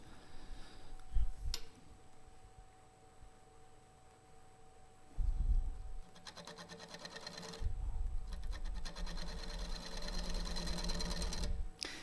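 Spindle gouge cutting wood on a lathe while shaping a bent-branch bud vase: a steady, close, rough whirring chatter that starts partway through and runs continuously, with brief low thumps before it.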